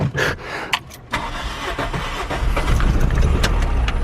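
A car engine cranks with low compression, its injector and plug removed. The starter churns unevenly after a couple of sharp clicks, rising into a loud, close, labored whirring that continues to the end.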